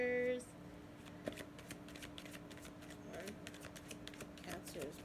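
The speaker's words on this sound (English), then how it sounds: "3 shuffles, and whatever comes out is meant for you," Tarot cards are shuffled by hand in quick riffling bursts, a dense crisp flutter of card edges repeating several times at close range, with a voice briefly heard at the start.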